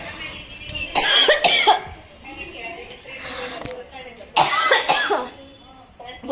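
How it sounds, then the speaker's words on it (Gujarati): A woman has a coughing fit in two harsh, close bursts of repeated coughs separated by a quieter pause, with voices around them. "બહુ ઉધરસ ચડી ગઈ."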